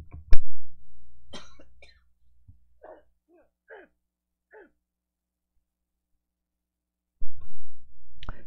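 A person coughs sharply a couple of times near a microphone, then a few faint throat noises follow, and after several seconds of near silence another pair of loud coughs comes.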